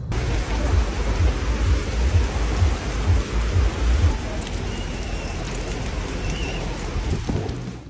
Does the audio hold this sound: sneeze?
no